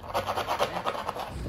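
A file rasps back and forth across the cut end of a bicycle seatpost, with quick, even strokes of scraping, close and moderately loud, running continuously through the short stretch without speech.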